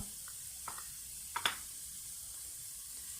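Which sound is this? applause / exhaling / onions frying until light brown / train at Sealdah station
onions frying until light brown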